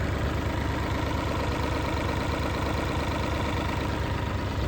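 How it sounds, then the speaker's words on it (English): A Mercury car engine with a flooding carburetor runs at high idle, a loud, continuous, even drone heard up close with no talking. "I currently have the throttle kicked up because it's flooding out the carburetor for some reason."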